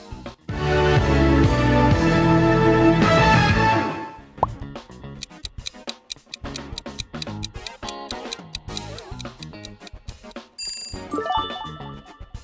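Burger King logo jingle: a loud sustained musical chord for a few seconds, then a quieter run of tapping, plucked and tinkling notes, ending in a few bright bell-like tones.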